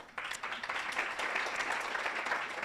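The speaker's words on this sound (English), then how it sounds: "So give yourselves a round of applause." Audience applause at a celebratory unveiling event for a cohort of investees: steady, dense clapping that starts abruptly and holds at moderate loudness, with no speech.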